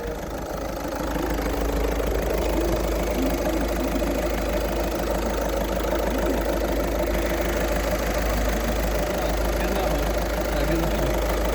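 A car engine idles steadily with a low, even rumble and slight rhythmic knocking, running continuously throughout at close range.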